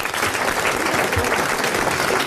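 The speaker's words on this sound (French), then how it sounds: "Je vous demande donc d'applaudir, comme elle le mérite, Madame Raison-Roy, d'Orchamps dans le Jura" A 1982 French radio show's studio audience applauding a contest winner, a loud, dense burst of clapping heard up close and unbroken by speech.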